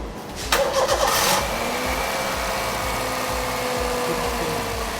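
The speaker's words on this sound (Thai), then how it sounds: "สตาร์ทเครื่องครับ" A car engine cranks briefly, catches and fires up, then settles into a steady, even idle that continues to the end.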